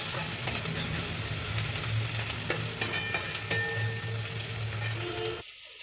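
Chopped onion frying in a pan with bay leaf and dried red chilli, stirred with a spatula: a steady close sizzle with scraping strokes and small metallic clinks, no voices, cutting off abruptly at the end.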